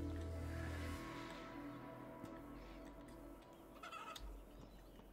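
A chicken in the survival video game HumanitZ makes a few soft clucks. They are faint and scattered over a quiet background hum.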